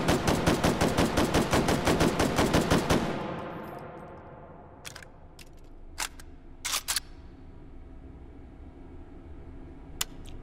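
Semi-automatic gunfire in the VR game Hot Dogs, Horseshoes & Hand Grenades: a fast, even string of loud shots for about three seconds, then quiet handling with a few scattered metallic clicks.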